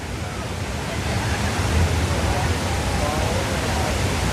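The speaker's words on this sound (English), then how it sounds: "And these are the largest man-made waterfalls in North America" Water pours down the walls of the 9/11 Memorial pools at the World Trade Center in New York City, the largest man-made waterfalls in North America, as a close, loud, continuous roaring rush that never lets up.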